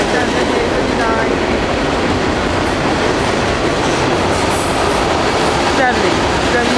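A Norfolk Southern southbound mixed freight train rolls past a road crossing in Columbus, Ohio, as a loud, continuous roar of wheels and cars with faint rhythmic clatter and brief high squeals.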